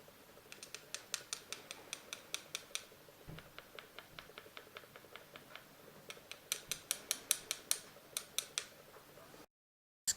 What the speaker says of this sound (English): you can tap it with a metal cuticle pusher or a nail art stick to really look for the clicking noise